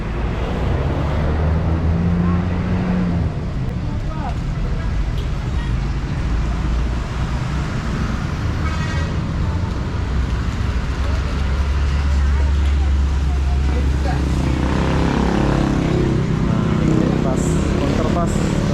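Traffic is jammed in front of a mall in Batam, Indonesia, with buses and cars idling and rumbling in a steady, continuous roar. Low engine drone and street noise fill the whole stretch.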